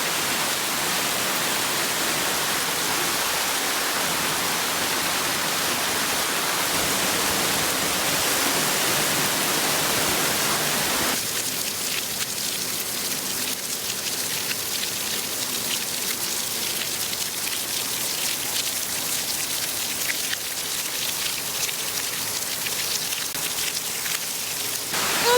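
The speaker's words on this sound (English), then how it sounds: "it is pouring down rain." Torrential rain pours over an Italian village, a dense, loud, unbroken hiss of drops on surfaces that eases slightly midway but keeps roaring steadily throughout, with no voices.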